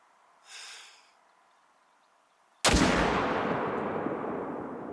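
In theHunter: Call of the Wild, an Eckers .30-06 rifle fires a single loud, sharp shot after a soft breath, and the report rolls out into a long, fading echo.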